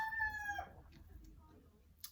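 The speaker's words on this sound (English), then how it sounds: "sorry about the rooster" A rooster's crow trails off faintly in the distance, followed by quiet background noise and a soft tap at the end.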